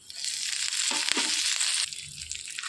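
Curry leaves dropped into hot oil already tempered with dried chillies and asafoetida, bursting into a loud, close crackling sizzle that flares and then settles to a steady hiss.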